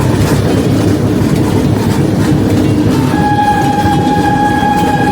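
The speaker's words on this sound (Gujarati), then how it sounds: "આપણી ટ્રેન ઉપડી ગઈ હવે," A sleeper class train on the Udaipur to Ahmedabad route rolls along the rails with a loud, continuous rumble and rhythmic clatter of the carriage, a steady tone whining faintly over it later on.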